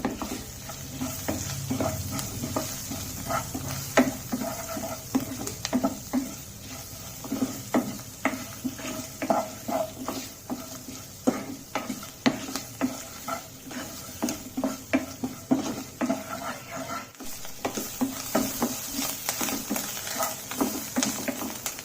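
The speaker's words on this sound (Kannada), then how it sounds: "ಈಗ ನೋಡಿ ಚೆನ್ನಾಗಿ ಫ್ರೈ ಆಗಿದೆ." Turmeric and spices fry and sizzle in a pan while being stirred, a steady hiss broken by repeated scraping strokes of a spoon against the metal, close and moderately loud, with no talking.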